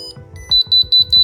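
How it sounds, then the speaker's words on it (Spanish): An Arduino buzzer sounding a temperature alarm as the sensor heats, four loud, evenly spaced high-pitched electronic beeps in quick succession, close by, after a moment of low hum. "veremos cómo irá subiendo la temperatura y gradualmente irán cambiando los colores de los LEDs y el sonido del buzzer"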